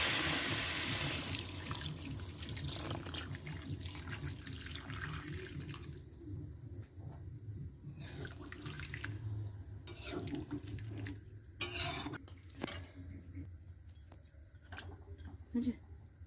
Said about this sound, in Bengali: একটু গরম জল করে রেখেছিলাম, আমি জলটা দিয়ে দিচ্ছি পরিমাণ মতো।